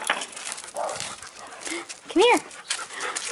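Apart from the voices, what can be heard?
dog playing fetch, panting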